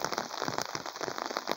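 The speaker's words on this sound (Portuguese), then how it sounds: "Muita chuva, graças a Deus, aqui." Heavy rain in the Brazilian sertão, a dense and steady drumming of drops on a surface close by, with no voices.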